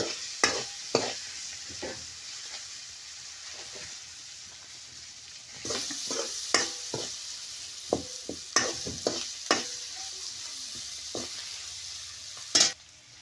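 Chillies sauté in a pan, sizzling steadily while a utensil scrapes and stirs in irregular bursts, close by, with no talking.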